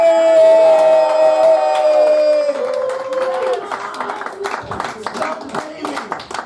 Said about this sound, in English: I want you guys to give a warm round of applause for Dumb Baby!